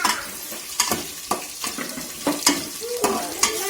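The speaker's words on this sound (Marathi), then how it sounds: "आता आपल्या सगळं परतून घ्यायचंय" Khichdi ingredients, including green chillies, sauté in a pan with a soft sizzle under repeated close spatula scrapes and taps in an uneven rhythm.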